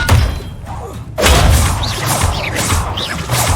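A spell impact from the video game Hogwarts Legacy hits with a loud, heavy thud and burst of whooshing energy, followed by sustained magical rumble and swishing effects over a dense game soundtrack.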